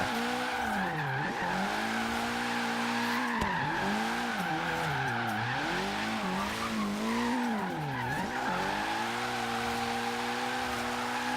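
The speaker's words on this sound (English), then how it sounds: "as you guys can see though, done right, the cars can drift really well." Continuous tire squeal and skidding from an all-wheel-drive car drifting in Forza Horizon 3, the pitch swooping with each slide over a constant engine note, loud and unbroken.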